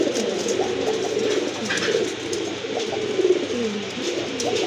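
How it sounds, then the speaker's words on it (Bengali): Indian Lotan pigeons coo steadily and close by, their soft, throaty calls overlapping in a continuous murmur with no talking. "মাশাল্লাহ, আরেক জোড়া কবুতর চলে আসছে"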